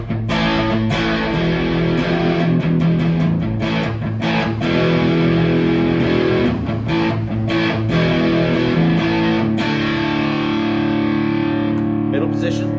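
A tele-style electric guitar is played through distortion and overdrive, giving a sustained, crunchy tone with picked chords and notes, loud and close throughout.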